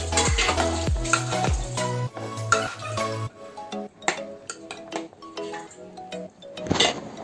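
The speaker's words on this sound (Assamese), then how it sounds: "মই আকৌ এবাৰ এইখিনি ভালকৈ মিক্স কৰি দিছোঁ" A spoon scrapes and clinks in a pot while a fish boil mixture is stirred after salt goes in, with a soft bubbling sizzle underneath and irregular metallic knocks, close and fairly loud.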